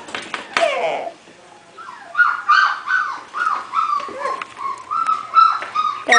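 Puppies whimper and cry in a run of short, high, whining yelps close by, with family members talking over them now and then.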